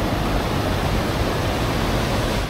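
Ghagra waterfall in Belpahari, Jhargram, running swollen after an unusually rainy season, gives a steady, loud, unbroken rush of falling water with no voices.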